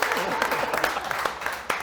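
Steady applause from a Pride panel audience, a dense patter of many hands clapping throughout, fairly loud and continuous.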